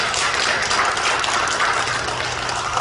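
Congregation applause fills a church during a New Year celebration service, a dense, steady wash of clapping from many hands lasting the whole moment without pause.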